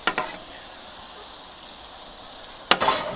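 Onions and ribeye sizzle faintly on a converted Weber Spirit gas griddle, a low steady hiss broken by two brief louder crackling bursts near the start and end.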